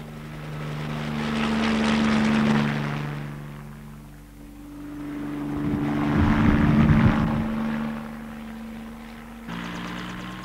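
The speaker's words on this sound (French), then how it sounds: "cette année l'hélicoptère pour les sulfatages." A helicopter flying crop-spraying runs in 1964, its engine and rotor droning steadily, swelling louder twice and then easing off, with no voices.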